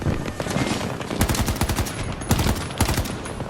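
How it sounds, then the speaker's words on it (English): Heavy automatic gunfire in Battlefield 2042, loud, close rattling bursts of rapid shots with several intense volleys over a constant battle din, no talk. "Taking heavy fire!"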